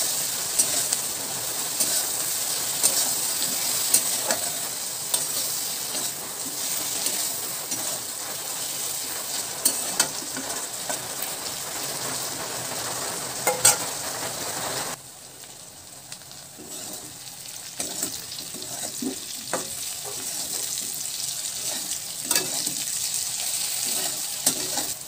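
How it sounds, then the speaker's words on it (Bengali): Ridge gourd pieces sizzle loudly in a pan while being stirred, a continuous crackling fry with scraping motions, dropping briefly quieter midway before the sizzle picks up again. "সবজিটা ভালো করে নাড়াচাড়া করে নিচ্ছি, আর সবজিটা বেশ কিছুক্ষণ ভাজা করে নেব।"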